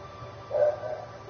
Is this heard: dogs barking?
yes